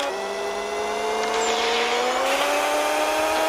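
A 1996 bagged Impala SS launching in Pixel Car Racer, its engine note rising steadily with tires squealing as the car pulls away, loud and continuous, with no talk.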